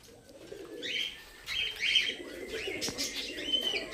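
Teddy pigeons released from a loft in Canning, with bursts of wing flapping and soft cooing and chirps coming in short, close waves over steady background hiss.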